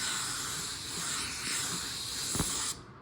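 Steady broadband hiss of a $109 spray gun laying down car paint, continuous and close for nearly three seconds before cutting off abruptly, with a brief knock near the end.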